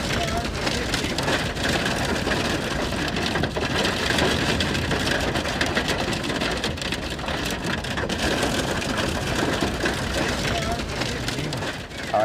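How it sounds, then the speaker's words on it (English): Hail falling in Oklahoma, a dense, loud and continuous pelting roar of stones striking surfaces close by that lasts throughout. "Some amazing video there of some hail."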